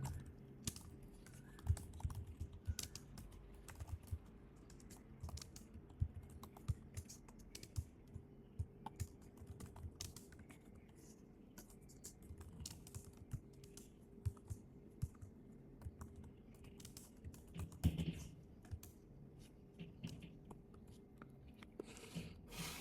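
Soft, quiet typing on a computer keyboard while C++ code is written on a Mac, an irregular stream of light key clicks with occasional louder taps, steady throughout and alone.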